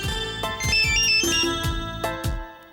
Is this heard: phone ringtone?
yes